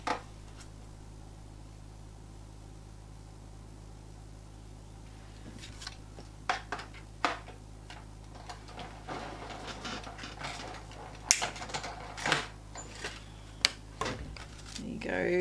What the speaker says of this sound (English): So I'm just going to die cut these.